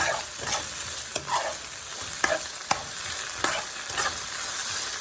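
Ketchup sizzles and fries in hot oil for corned beef, with steady frying hiss throughout and several sharp scrapes and taps of a spoon stirring the pan close by.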